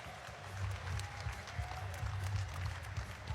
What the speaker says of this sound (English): a round of applause once again for these two warriors